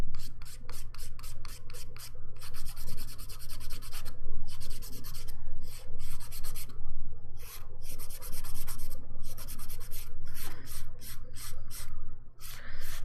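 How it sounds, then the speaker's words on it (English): Nail file rasping over dip powder nails during a manicure, close and loud, in quick rhythmic bursts of back-and-forth strokes with short pauses between sets, and a steady low hum underneath. "we're filing out all those bumpy spots"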